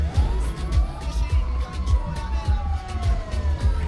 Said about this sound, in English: there's our fire truck arriving on scene.